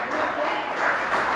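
Congregation clapping steadily through a church sermon, a dense, sustained wash of applause with faint crowd noise and no clear voice on top.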